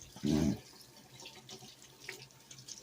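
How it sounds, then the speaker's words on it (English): Turkey wings are rinsed under a running kitchen tap, with a short loud burst of gushing water into the sink followed by quieter splashing, dripping and handling of the wet meat nearby. "So we're just going to continue to wash off our meat and put them aside before we season them."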